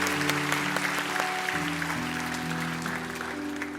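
Sustained applause from a church congregation honouring its elders, a steady dense clapping throughout with a held musical tone underneath.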